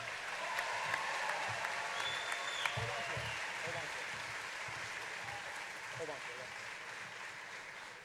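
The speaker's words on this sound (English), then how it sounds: "Let's have a round of applause for all of our winners." An audience at a high school graduation ceremony applauds award winners, a sustained wash of clapping from a large crowd, with scattered voices and a brief whistle carrying over it.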